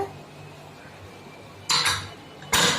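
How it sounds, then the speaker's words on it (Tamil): A metal lid is set onto a pressure cooker holding chicken biryani, giving two close, bright metallic clanks a moment apart after a quiet stretch. "இப்போ நம்ம கேஸ் ஃப்ளேமை வந்து சிம்ல வச்சுட்டு மூடி போட்டு"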